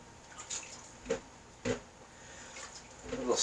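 Water drips from blanched corn on the cob lifted out of cold water: a few quiet, scattered splashes and drips over low background noise, with faint talk in the room.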